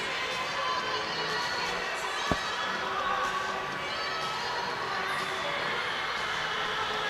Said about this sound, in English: The crowd really loving it. Really into it.